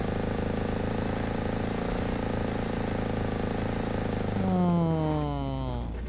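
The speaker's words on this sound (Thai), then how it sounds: "เสียงเมื่อกี้คือแบบแต๊ดแต๊ดแต๊ดแต๊ดเหมือนเครื่องตัดหญ้าเลย" A buzzing, putt-putting Volkswagen engine in PUBG Mobile drones steadily like a small lawn mower, then revs up with rising whine toward the end; no talking.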